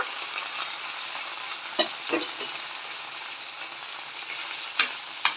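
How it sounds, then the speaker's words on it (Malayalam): Chicken kondattam masala mix sizzles steadily in a little hot oil in a pan, a continuous bright crackle with a few sharper spits and bursts as it is stirred, no voices. "അതിന് ശേഷം നമ്മൾ ഈ മിക്സ് ചെയ്ത് വെച്ചതിനെ അതിലോട്ട് ഒഴിച്ചു കൊടുക്കുക."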